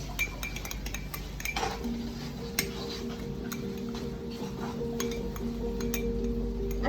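A spoon clinks and scrapes against a mug while mixing mug cake batter for a Father's Day treat, with repeated light metallic taps in an irregular rhythm over a steady room hum.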